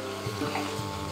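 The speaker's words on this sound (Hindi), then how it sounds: "गोश्त को कम से कम 5 से 7 मिनट तक हमें भूनते रहना है धीमी आंच पर" Mutton being slow-fried over a low flame for Old Delhi nihari gives a steady, even sizzle with faint stirring scrapes, close and continuous without any talk.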